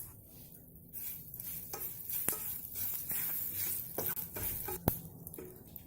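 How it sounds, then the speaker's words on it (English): Curry leaves and asafoetida hit hot oil in a pan for an eggplant tomato curry, crackling in a close, busy sizzle broken by sharp pops and spoon clinks. "I'll add in the curry leaves. Add in the asafoetida."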